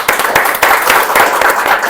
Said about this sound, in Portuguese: eu pediria uma salva de palmas ao André